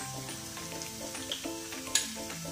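Onions frying in a pan give off a steady, close sizzle for a Gongura chicken curry, with soft stirring and one sharper clink near the end. Faint background music lies under the sizzle.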